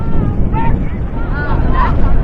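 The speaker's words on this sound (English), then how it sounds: "a big gust of wind comes up and blows up all the dust in the area" A big gust of wind sweeps dust across an outdoor baseball field, roaring loudly and continuously against the microphone while a commentator's voice is faintly audible underneath.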